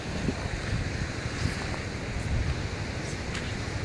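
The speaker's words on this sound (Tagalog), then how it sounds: "Nakakatakot dito, malakas yung malakas yung alon" Strong ocean waves at a river mouth on the Aurora coast near Baler, a steady dense roar of surf mixed with wind rushing across the microphone, with no breaks.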